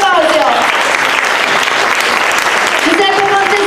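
Audience applause fills a talk event for the speakers, steady and loud from start to end, with an announcer's voice carrying over the clapping.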